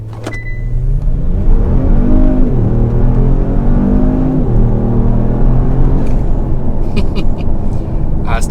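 A Kia Stinger GT fitted with BMS intakes revs up twice, the engine note climbing and then falling off on each lift, loud and close, with a brief voice near the end.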